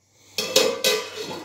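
A lid set onto a pan of Maggi noodles, giving a few quick close metallic clinks and clatters followed by a brief ringing settle.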